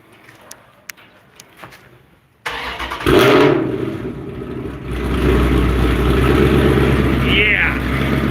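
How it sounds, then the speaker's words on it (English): A loud SUV engine cold-starts after a quiet lead-in with a few faint clicks: a sharp crank and catch, a brief rev, then a deep, rumbling idle that holds steady and close. "Somebody wanted a cold start, so here you go. It's going to be loud as hell."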